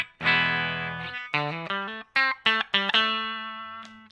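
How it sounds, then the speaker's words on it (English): Electric guitar on a clean tone through the bridge pickup, run through a Synth Mangler fuzz pedal into an amp: one sustained chord followed by a quick series of bright plucked notes and chords, ringing out alone. "My clean tone sounds like this in the bridge pickup."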